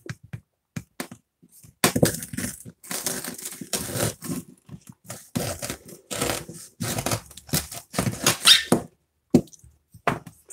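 A candy apple is cut with a knife, giving a series of crunchy cracks and crackles as the hard candy shell breaks, close and fairly loud with short gaps between bursts.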